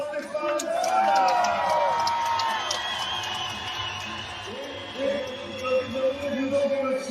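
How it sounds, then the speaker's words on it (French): A boxing-match crowd for a Belgium versus Colombia bout cheers and stirs beneath a ring announcer's amplified voice, with whoops and scattered whistles rising and falling throughout; clapping is light and mostly buried under the talk. "je vous demande d'applaudir votre ami dans le coin bleu, Michael Pearson"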